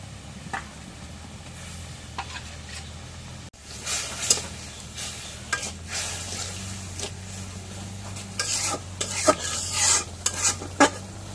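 Chili powder, turmeric, cumin paste and garlic masala frying in hot oil, a bright steady sizzle with repeated spatula scrapes and stirring clatter against the pan, growing busier after a brief cut partway through.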